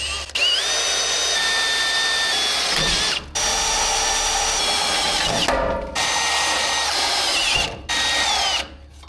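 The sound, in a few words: drilling a hole into steel frame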